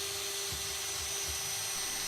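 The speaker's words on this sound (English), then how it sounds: "I'm drilling all the way through the drawer bodies themselves here" A drill bores straight through wooden drawer bodies with a steady, loud whine and rumbling bit chatter that continues unbroken throughout.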